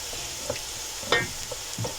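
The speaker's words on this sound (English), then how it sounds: "I will add in my 3 cloves of garlic that I grated" Grated garlic drops into a pan of sautéed potatoes and sizzles as it is stirred, with soft frying crackle beneath a few scraping and knocking stirs, close-up and without speech.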